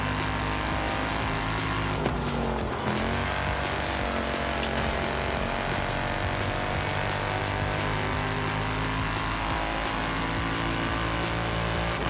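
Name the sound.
Nissan Safari car engine revving in video game Forza Horizon 5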